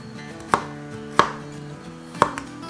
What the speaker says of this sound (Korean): 호박처럼 큼직큼직하게 썰어주세요.